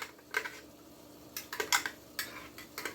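Ham steak and vegetables stirred in a pan, giving a few scraping, clinking bursts of utensil on cookware close by, with quiet pauses between the strokes.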